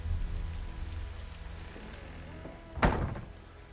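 Steady rain patters softly, with a single sharp thunk partway through.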